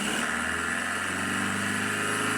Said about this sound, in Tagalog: So dinig niyo naman na mahina talaga yung engine.